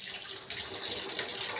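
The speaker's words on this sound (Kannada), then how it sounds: "ನೀರು ವೇಸ್ಟ್ ಆಗುತ್ತೆ, ಬೇಗ ಬೇಗ ತೊಳಿಯಪ್ಪ." Tap water runs steadily into a sink while dishes and spoons are washed, giving a continuous close hissing splash with slight fluctuations and no speech.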